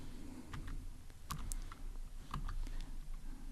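Keys on a computer keyboard click in a quiet, irregular run of light taps, a few a bit sharper, over a low background hum.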